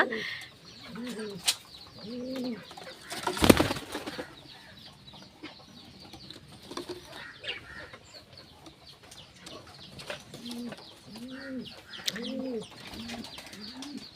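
Pigeons coo repeatedly in soft, rounded calls, with a brief loud rustle or flutter partway through and a faint background hiss.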